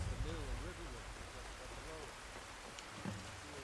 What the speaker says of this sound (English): Man, I love rain.